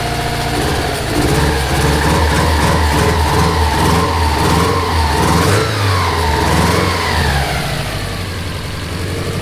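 A JDM Subaru EJ205 engine in a GC8 that has sat unused for a long time, running loud and close with a rough idle and repeated revs that swell and fall throughout.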